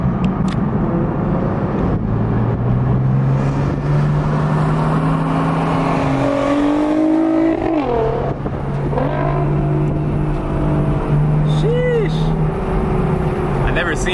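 A Nissan GT-R engine drones and revs steadily as the car drives, with rising and falling pitch over about fourteen seconds, loud and continuous, with voices talking over it.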